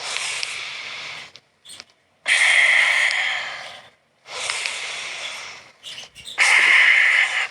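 Someone breathes out forcefully in a lung breathing exercise, with three long, loud airy exhalations close to the ear and short quiet gaps between them.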